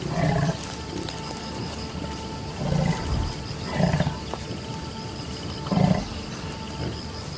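Deep rumbling calls from an African savanna elephant in open woodland, four low swelling bursts spaced a second or so apart over a constant outdoor hiss.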